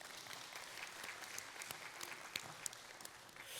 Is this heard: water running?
no